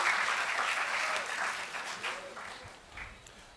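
A graduation ceremony audience claps steadily, a dense wash of applause that slowly thins and fades over a few seconds.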